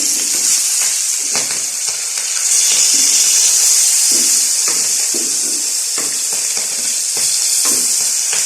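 Fish frying in hot oil gives a loud, close, continuous hissing sizzle with intermittent crackles and pops throughout.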